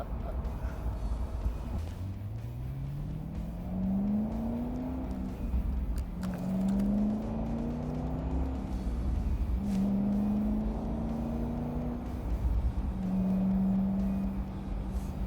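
Corvette sports car, C5 or C6 Z06, accelerating through several gears, its engine note rising repeatedly then dropping at each shift, loud and sustained from inside the car.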